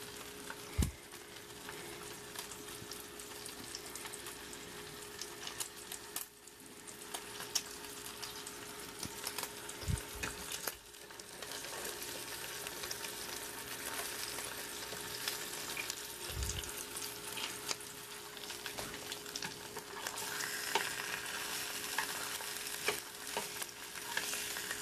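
Sausage and hash brown frying in a pan for a breakfast sandwich, giving a steady, close sizzle throughout with a few brief knocks and scrapes as the food is flipped.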